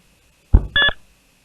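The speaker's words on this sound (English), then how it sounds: "that beep was actually the parking mode detecting a G-Shock" A Blackvue DR450 dashcam in parking mode gives a short two-part electronic beep when its G-sensor detects a shock, close and clear against near silence.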